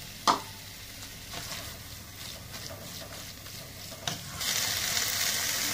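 Kefta meatballs and vegetables fry in a pan with a steady sizzle, broken by a few sharp clatters of stirring utensils, and the frying grows louder and brighter near the end with no talk.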